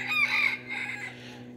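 A rooster crows once, a loud drawn-out call close by, trailing off over a low steady hum.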